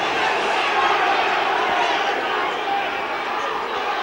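Crowd at a Leigh East rugby league cup match against Bradford at Hilton Park, shouting and cheering in a continuous dense roar.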